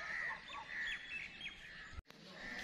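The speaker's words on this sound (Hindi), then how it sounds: "कोयल बोल रही है।" An Asian koel calls outdoors in a village in Punjab, Pakistan during the rainy season. Its clear, repeated notes and chirps carry at moderate level over soft background hiss, with a brief dropout near the end.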